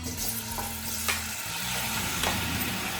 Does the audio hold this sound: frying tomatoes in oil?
yes